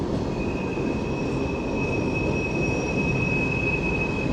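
Train at Winnipeg railway station, with a steady broadband rumble of rolling stock and a sustained high-pitched wheel squeal running throughout, loud and continuous, with no voices.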